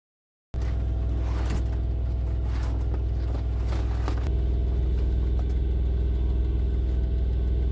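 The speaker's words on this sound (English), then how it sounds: "I'm just warming up the engine" A new truck's engine idling while warming up at a Love's truck stop off I-94 in Valley City: it begins abruptly after a brief silence, then holds a steady, close, even rumble with a slight shift in tone partway through.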